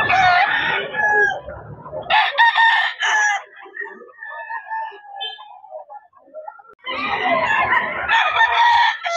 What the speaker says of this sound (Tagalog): Mga klaseng manok ni boss.